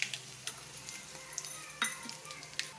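Mustard seeds and dried red chillies sizzle in hot oil while tempering for a drumstick-leaf poriyal, a steady close crackle broken by sharp, irregular pops.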